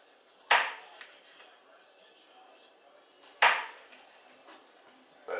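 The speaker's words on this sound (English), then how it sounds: "you need to cut your onions, your green onions, really small, probably about 1/4 inch" A knife chops green onions on a cutting board in a home kitchen, giving two sharp, close thuds a few seconds apart and a third at the end, with small softer taps between them.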